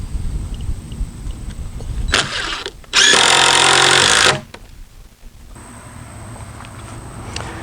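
A power driver drives lag bolts into wet fence wood without pre-drilling, whirring in short bursts, one brief run followed by a longer, loud steady spin, with quieter background noise before and after.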